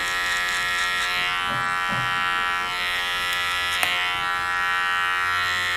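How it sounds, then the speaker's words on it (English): Electric hair trimmer buzzing steadily over a comb while taking stray hairs off a skin fade haircut, a close, continuous hum with slight shifts in tone as it moves along the head and one sharp click near the end. "a little bit of trimmer over comb, guys, just to get any unwanted hairs off that's underneath"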